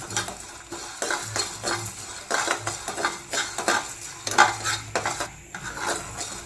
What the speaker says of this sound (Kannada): ಸೊ ಆ ರೀತಿ ಘಮ ಬರೋವರೆಗೂ ನಾವು ಮಸಾಲೆನ ಹುರ್ಕೋಬೇಕಾಗುತ್ತೆ.